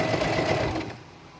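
A sewing machine stitches an elastic strap onto a halter-neck top, its needle whirring in a loud, fast, steady run for about a second before it slows and fades to quiet.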